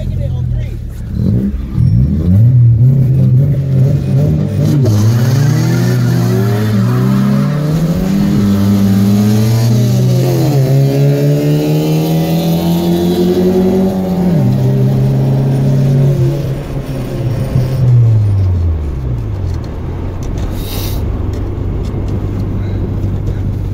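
A street car accelerates hard from a green light in a street race, its engine revving loudly up through several gear changes with rising and falling pitch, close and dominant, under some talk.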